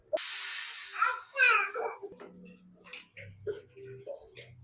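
A pressure cooker cooking a leafy-greens sambar gives a loud hissing release of steam for a couple of seconds, then fades as people talk nearby.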